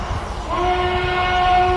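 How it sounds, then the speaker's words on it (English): Dread 46 train whistle, a Southern Pacific Desert 5 chime, sounds as a sustained chord that begins partway in and holds steady over low rumbling rail noise. "this is the noise that you're about to hear from Dread 46"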